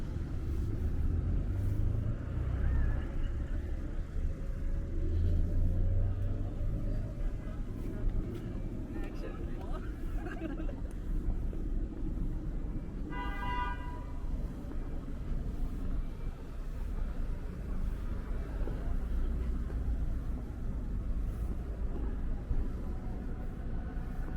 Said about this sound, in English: You see there's a good amount of traffic on the street here.